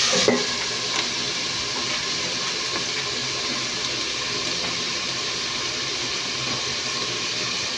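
Sautéed chayote being stirred in a pan gives a steady, even sizzle with soft scraping throughout, moderately close and without pause.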